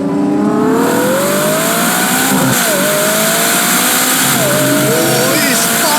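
Ferrari SUV with a naturally aspirated V12 accelerates hard, its engine revving loudly up through rising pitch sweeps with brief dips between gears, close and continuous, with someone talking over it.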